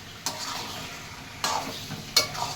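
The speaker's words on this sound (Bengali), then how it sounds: "মশলাটা কষানো হয়ে গেছে, এবারে মাখিয়ে রাখা চিকেনটা দিয়ে দিলাম।" Marinated chicken stir-fried in a cooked spice paste with jaggery, a soft background sizzle broken by three sharp spatula scrapes against the pan.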